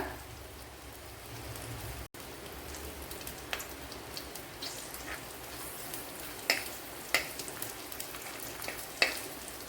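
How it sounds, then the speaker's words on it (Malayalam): Chopped ginger sizzles in hot oil for a fish curry, a soft, steady crackle with a few sharper pops and stirring clicks, close and fairly quiet, with no talking. "ഇനി ഇതിലേക്ക് വൺ ടേബിൾ സ്പൂൺ ഇഞ്ചി ഇതുപോലെ ചോപ്പ് ചെയ്തത് ഇട്ട് കൊടുക്കുക"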